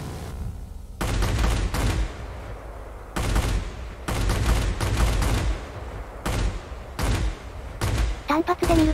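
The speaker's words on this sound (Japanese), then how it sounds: "全力射撃をするとショットガンのようになり、オーバーヒートまでも長いので" Twin guns of a German Bf109Z heavy fighter blaze in sustained bursts in World of Warplanes, roaring rapid gunfire in several long volleys separated by short gaps, loud and close.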